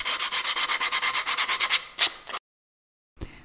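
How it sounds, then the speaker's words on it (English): Hand sanding of a wooden plank with quick, rhythmic back-and-forth rubbing strokes close up, slowing to a couple of final strokes, then silence and a last brief scrape. "saw the plank of wood in four different pieces and sand it all around to make it neat"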